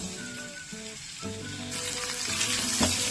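Onion fries in a pan with garlic, curry leaves and green chillies, a steady sizzle that grows louder and hissier partway through, with a few stirring scrapes.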